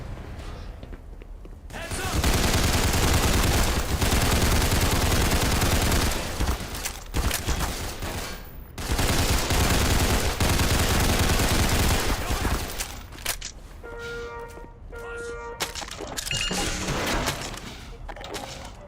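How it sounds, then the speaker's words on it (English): Video game gunfire crackles in long, dense sustained volleys with brief breaks, loud and close, while voices and other game noises come through in the quieter stretch near the end. "Stop shooting scientists!"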